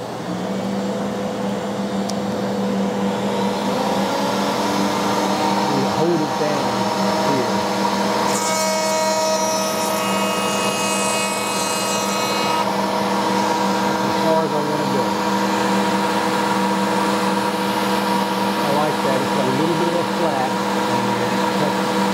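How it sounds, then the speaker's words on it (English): A router chamfering the edges of a tabletop runs with two dust collectors going, a loud, continuous whir and hum that holds steady throughout, with faint talk beneath it. "turn both of the dust collectors on, and then I'll start the router up and we'll run this test with it"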